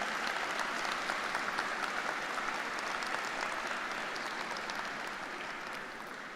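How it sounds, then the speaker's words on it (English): Graduates at a high school commencement applaud their parents and guardians, a steady, dense wash of clapping from a large crowd that holds evenly throughout and begins to taper off near the end. "Graduates, please give your parents and guardians a round of applause for all of their support for you."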